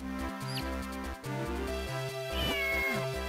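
A cartoonish cat meows in a video game, with short rising and falling mews heard clearly over looping, chiptune-style background music.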